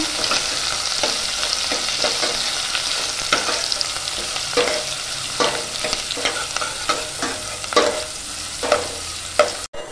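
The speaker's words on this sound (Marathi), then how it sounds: "बारीक चिरलेला कांदा पण टाकूया. कांदा ना नरम होईपर्यंत आपण परतून घेऊया" Finely chopped onion sautés in oil with a bay leaf until soft, a steady sizzle broken by repeated spatula scrapes and stirs at a loose rhythm, close and clear with no voices.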